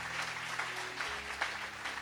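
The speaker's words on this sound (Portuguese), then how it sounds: "receba o pastor aplaudindo bem forte a Jesus" A church congregation applauding, a steady wash of many hands clapping together throughout, with a low sustained tone underneath.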